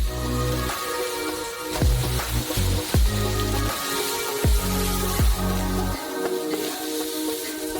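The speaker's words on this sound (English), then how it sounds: "Now we pour 40 kilograms of sugar on top." Forty kilograms of sugar pours into a hefty saucepan already holding corn syrup, making a steady granular hiss with a few thumps and shifts in the flow. Background music plays faintly beneath it.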